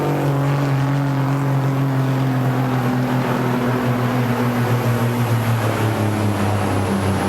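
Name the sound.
pulling tractor engine bogging down while pulling the sled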